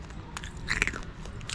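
Someone bites and crunches an artificially dyed Herkimer diamond mounted on a stick, giving a short close run of crisp cracking bites without talk.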